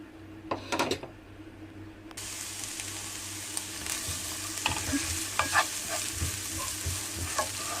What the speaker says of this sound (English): we will saute the onion. On a medium low heat